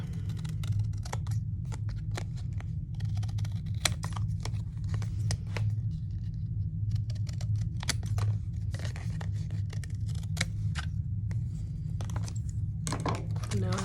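Scissors snip away extra bits of material while making a homemade viewfinder, giving a steady run of close, dry clicks and crisp cuts over a low background hum.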